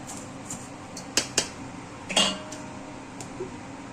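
Fried flattened rice (chira) is tipped from the pan into a metal draining basket, giving a few brief close rattling clatters and clinks against a quiet background. No one speaks.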